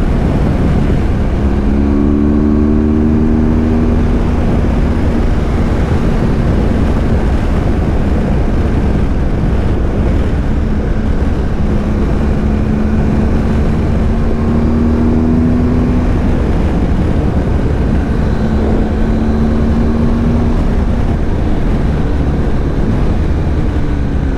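A motorcycle rides along a winding road in France, its engine a loud, steady drone that rises and falls in pitch as it moves, with wind rushing throughout and no talking.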